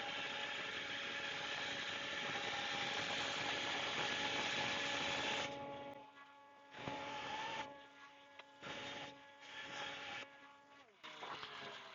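A Sabre 350 bandsaw cuts a crotch piece of wood into square blanks for turning, a steady loud whine of blade through the wood for about five seconds, then the motor runs on more quietly with intermittent bursts.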